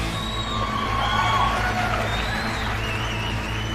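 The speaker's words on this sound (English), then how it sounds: "The crowds are eager to meet the contestants" An eager crowd cheers for cat contestants at a staged cat-fighting competition, a steady wash of cheering and applause carrying on throughout.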